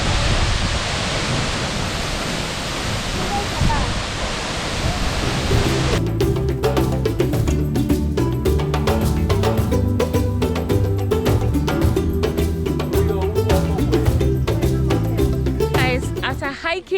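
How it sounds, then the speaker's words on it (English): Tagbo Waterfall in Ghana's Volta Region roars as a steady, loud broadband rush of falling water, continuous throughout, later joined by dense crackling texture, with no talk heard. "this is Tagbo Waterfall here in the Volta Region."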